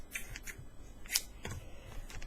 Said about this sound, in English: then I'll cut that thread off